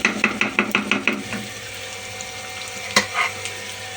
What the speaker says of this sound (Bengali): সব মশলা কষিয়ে নিয়ে, মশলা বলতে হলুদ আর লবণ, আর তো পেঁয়াজ রসুন কাঁচামরিচ এখানে